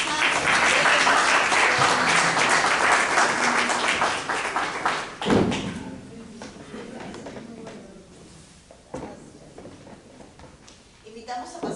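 An audience applauds a panel at a talk on Peru's Bicentennial murals. Loud, dense clapping fills the first few seconds, then dies away into quieter room noise with voices talking.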